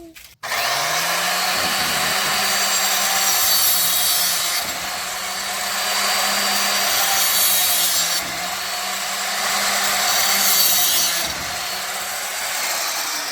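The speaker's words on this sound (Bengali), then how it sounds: "মেশিন দিয়ে কীভাবে অতি সহজে পাইপগুলো কাটা হয়ে গেল" A power machine fitted with an old tile cutter blade cuts through UPVC and Sintex pipe, starting abruptly into a loud, steady whine and grinding rasp that swells and dips several times as it bites.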